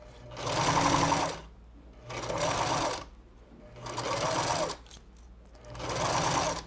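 A sewing machine stitches a thick patchwork fabric roll with wool inside, running in four steady bursts separated by short pauses.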